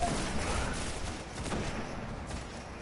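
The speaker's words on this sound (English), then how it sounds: "Yep, he started shooting." Enemy gunfire in the Destiny raid Crota's End rattles as a dense, continuous burst of shots, muffled and steady for a few seconds.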